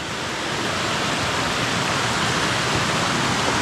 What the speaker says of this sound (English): It does look like there's a pretty cool waterfall.